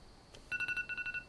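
A mobile phone ringtone plays inside a car, a quick run of bright electronic beeps in a rapid rhythm, faint and somewhat distant.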